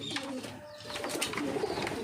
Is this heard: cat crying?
no